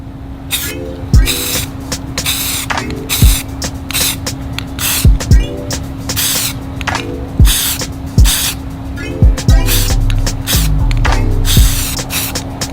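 An aerosol spray can sprays paint onto metal hardware in repeated short hissing bursts, close and loud, with a steady electrical hum underneath and a longer spray toward the end.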